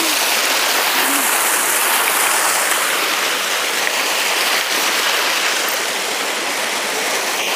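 Water rushes steadily at the Barkanya waterfall in a forest setting, a dense, continuous hiss of falling and flowing water that stays loud and even throughout, with no voices.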